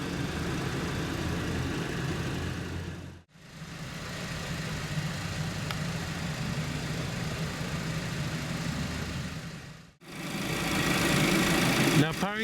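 A 2017 Volkswagen Jetta's 1.8 L turbocharged four-cylinder engine runs at a steady, even idle, heard at moderate level with two brief dropouts.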